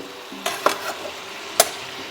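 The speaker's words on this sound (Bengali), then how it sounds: "এবার মশলাটা খালি কষিয়ে এটাকে ভালো করে একটু মজিয়ে নেওয়া" Spice paste with pumpkin greens and prawns being stirred and sautéed in a pan, with a few sharp scraping stirs and brief clinks over a low, steady sizzle.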